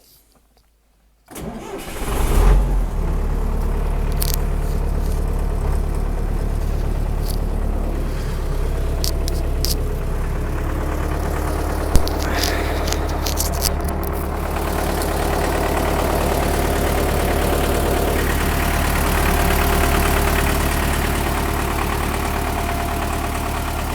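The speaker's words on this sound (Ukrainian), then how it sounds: "Зараз заведу, послухайте роботу двигуна." A Swedish-market MTZ 920 tractor with about 1500 engine hours cranks and fires its diesel engine, which then settles into a loud, steady, even idle right up close.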